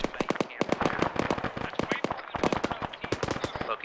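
Gunfire in the Arma military simulation game crackles as rapid, dense strings of shots during a compound assault, a fast irregular rattle of close and distant rounds.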